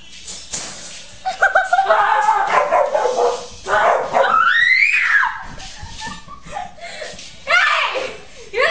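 A dog barks repeatedly while chasing people indoors down a hallway, loud close yips and barks in bursts mixed with excited shouting and laughter.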